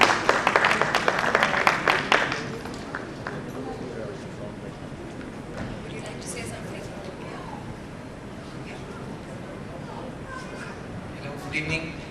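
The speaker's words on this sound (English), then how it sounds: "Can we please have a round of applause for him?" Audience applause at the Times Education Excellence Award 2012 as author Chetan Bhagat is called to the stage: a dense burst of clapping for about two seconds that thins into scattered claps and room murmur, with a few claps returning near the end.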